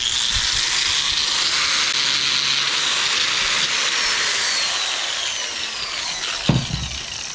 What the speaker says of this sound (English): You just grind these rivets off. You just grind the heads of them off and then punch them through.